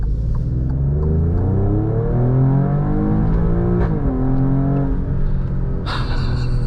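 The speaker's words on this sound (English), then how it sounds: "See how the shifts are in automatic mode." A 2023 Alfa Romeo Stelvio Quadrifoglio engine loud and close, revving up through several automatic upshifts, its pitch climbing and then dropping at each change, with a sharp burst near the end.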